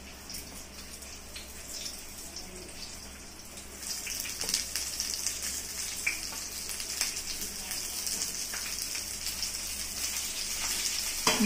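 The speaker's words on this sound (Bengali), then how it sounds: "এবার আমি এইভাবে বেগুনের যেদিকে খোসাটা আছে সেই দিকটা সরাসরি তেলের মধ্যে দেব" Eggplant pieces laid skin side down in hot oil sizzle with a steady hiss that swells and grows denser after a few seconds, with faint pan clatter and no speech.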